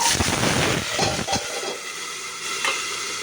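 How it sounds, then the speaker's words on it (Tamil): Onions and green chillies hit hot oil that already holds browned fenugreek seeds, for a fish curry. A loud, close sizzle with stirring clatter comes first, then eases into a steady hiss. "வெந்தயம் செவந்துடுச்சு வெங்காயமும் பச்சை மிளகா போட போகிறேன்"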